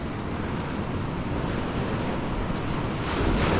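Sea waves break and wash continuously on a shore in Turkey, a dense roaring surf mixed with strong wind buffeting the microphone, swelling slightly louder toward the end with no voices.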